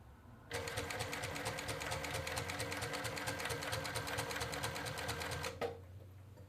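A post-bed sewing machine stitches steadily for about five seconds in a fast, even mechanical rhythm. It starts abruptly and stops with a brief clunk, and no one speaks.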